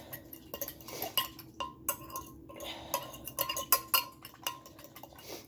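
A utensil clinks and scrapes against a bowl while pretzel dough ingredients are mixed, making quick irregular clatters and taps close by with no talking.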